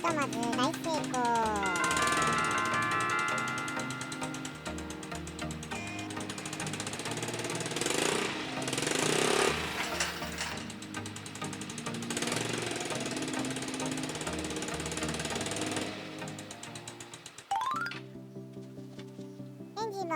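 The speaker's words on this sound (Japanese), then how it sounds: "エンジンも無事かかったということで冷却水の作業に移ります" A Yamaha Majesty 125 scooter engine runs after an engine swap, a steady mechanical clatter that persists through the whole stretch beneath louder background music.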